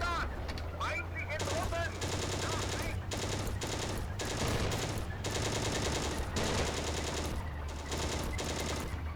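Sustained machine-gun suppressing fire pours onto a trench in the WWII tank game Steel Fury, loud, rapid and nearly continuous with brief gaps, a constant low engine hum underneath.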